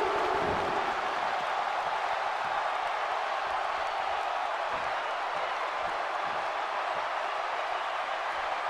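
A wrestling arena crowd during a title match makes a steady, distant roar of cheering and applause, even and sustained throughout with no sharp peaks.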